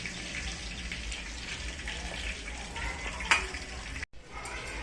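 Chicken seekh kebab sizzles in hot oil, a steady bright crackle that stays close and even until a brief dropout near the end.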